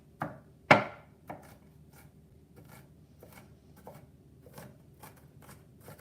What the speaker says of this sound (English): I have my onions cut exactly how I would like them